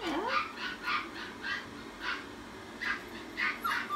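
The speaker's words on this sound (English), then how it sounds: "where I don't have my poodle boys in the next room. Whining because I gave them a bath." Poodles whine from the next room after a bath, a series of short, muffled, moderately distant whimpers repeating roughly every half second.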